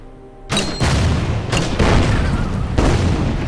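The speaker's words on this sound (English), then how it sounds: "And we can also fire the mortar on his tank." In the Order of Battle strategy game, a mortar fires on a tank: a sharp, loud boom followed by a rolling series of heavy blast impacts that rumble on close by without pause.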